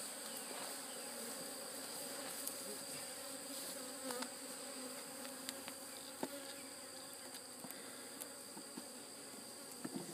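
Honeybees swarm out of newly set hives beside a watermelon field, a dense, steady buzz filling the air with many insects passing near, no talking over it.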